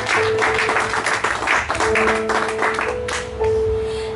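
A church congregation claps together in a steady, dense wash of applause, with sustained musical tones ringing through it the whole time.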